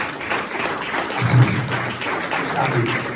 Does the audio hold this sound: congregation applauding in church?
yes